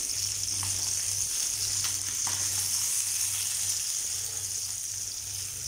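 Fish fries on a hot tawa with a steady, close sizzle and faint crackles throughout, no voices.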